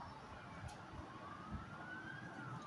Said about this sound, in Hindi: मगर तभी अचानक से उन्हें एक सायरन की आवाज आने लगी।